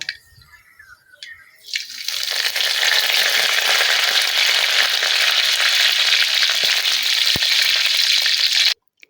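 After a moment of quiet, a sudden burst of loud crackling sizzle erupts as curry leaves hit hot oil, holding steady at close range, then stopping abruptly.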